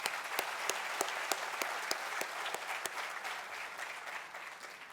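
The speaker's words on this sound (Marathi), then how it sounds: "त्या सर्वांच्या स्वागतासाठी जोरदार टाळ्या झाल्या पाहिजे" An audience at a village water heroes ceremony breaks into steady, loud applause, a dense clatter of many hands that tapers off slightly toward the end.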